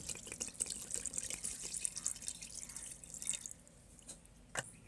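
Water pours into a pot of mutton curry seasoned with salt, turmeric, chilli powder and mustard oil, making a steady close splashing stream that tapers off, then a faint knock.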